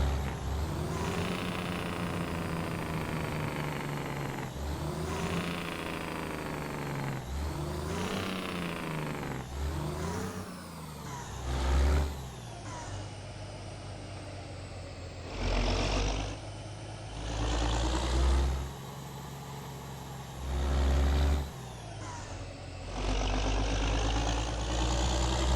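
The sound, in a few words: jake brake on International 9900i truck, from a video game mod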